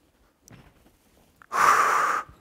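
A person breathes during exercise, a soft faint intake followed by a loud, close, forceful exhale lasting under a second, with no talking.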